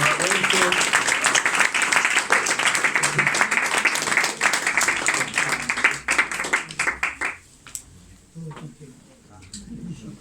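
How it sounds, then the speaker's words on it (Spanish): Audience applause for a poet at a poetry gathering, loud steady clapping that thins out and fades after several seconds, leaving scattered claps and quiet voices. "Un aplauso."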